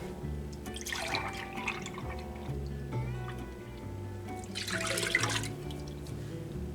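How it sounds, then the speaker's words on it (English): Two cups of milk poured for chocolate pudding in a home kitchen, faint liquid splashing in two short bursts over a quiet background. "We're gonna put in 2 cups of milk."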